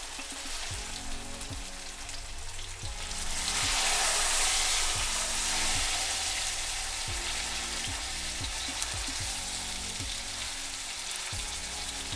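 Meat searing in hot oil in a pan, giving a constant fizzing sizzle that swells briefly, with soft repeated scrapes of stirring underneath and no talking.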